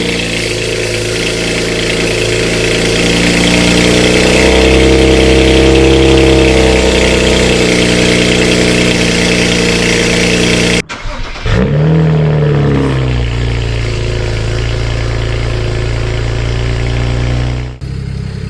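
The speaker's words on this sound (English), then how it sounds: "Here's the first ever cold start on the 335 with some downpipes." BMW 335i on a cold start with VRSF catless downpipes: a loud, steady, deep exhaust drone at elevated idle for about eleven seconds, then a brief dip as the revs drop to a calmer, lower idle that continues close by.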